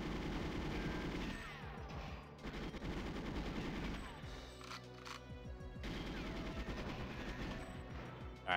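Rapid bursts of gunfire from the N64 video game GoldenEye 007 fire nearly continuously, loud and dense, with overlapping shots and brief lulls over about eight seconds.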